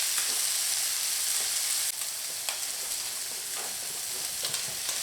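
Leeks and carrots sizzle in a hot wok as they stir-fry. The frying hiss is steady and close, broken by a few sharp stirring clatters, with no voices.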